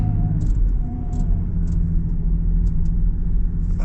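A 2025 Land Rover Defender 110 D350 engine held at about half throttle while the vehicle struggles for grip on a slippery surface, giving a steady, close, heavy low rumble with no break.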